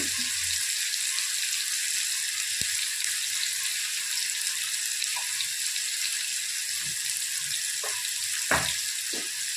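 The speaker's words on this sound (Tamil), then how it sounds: "வந்து இதை நல்லா வதக்கிடுக்கணும்" Ingredients fry in a pan with a steady, bright sizzling hiss and a few soft, scattered stirring knocks.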